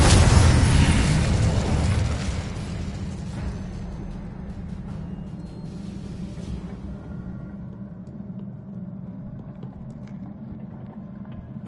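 An Incendio fire spell in Hogwarts Legacy erupts with a loud blast, then gives way to a long, steady crackling rumble that gradually thins out over several seconds, with no voices.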